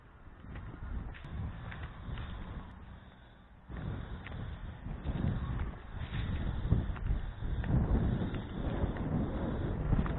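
Breezy outdoor wind buffets the microphone on a walk to the park, a steady low rumble that swells louder after the first few seconds and keeps gusting throughout.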